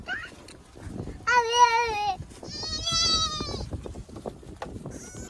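Goats penned together bleat loudly and close by, two long wavering cries followed by a shorter one, over low background rustle and murmuring.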